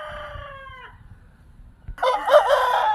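A Natu Kodi fighting rooster crows once near the start, then a second louder, harsher crow or squawk follows after a short quiet gap, close by.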